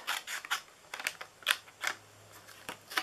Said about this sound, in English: I am going to just cut around the words